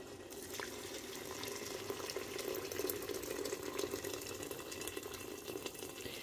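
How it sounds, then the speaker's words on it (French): Boiling water pours steadily into a pot of Tlemcen-style harira soup with meat, a close, continuous splashing gush that lasts several seconds. Nobody talks over it. "Là, je vais ajouter de l'eau bouillante."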